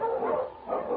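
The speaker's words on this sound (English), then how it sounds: "The wonder dog King, swiftest and strongest of Eskimo lead dogs, blazes the trail through storm and snow for Sergeant Preston" A lead dog of the Eskimo sled type barks in a short burst of yips and bow-wows, heard with the narrow, muffled tone of an old radio broadcast.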